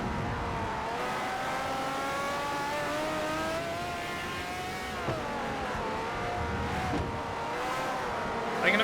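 Race car engine in Forza Motorsport 4, driving the Nürburgring in a Zonda R, a continuous high-pitched whine that rises and falls through gear changes, steady and fairly loud throughout.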